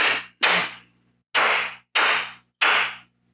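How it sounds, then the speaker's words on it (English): Five sharp, separate hand claps, loud and close, spaced irregularly with brief silences between them and no other sound around. "I got to clap. You have to clap."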